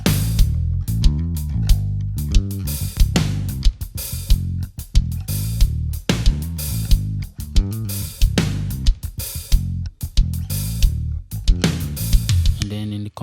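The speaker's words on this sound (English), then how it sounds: "I have a bass going on here," A MIDI-programmed drum kit with a bass guitar line in a mix: punchy, regular kick and snare hits over a sustained low bass, loud and close, with no talking.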